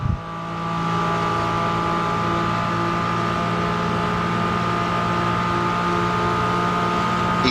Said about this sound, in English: Hear the Porsche